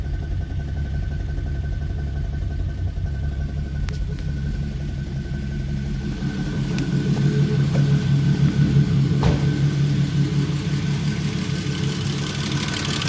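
A freshly built turbocharged VR6 car engine runs after starting, a steady low rumbling idle that swells a little louder midway, with a few faint clicks and knocks over it.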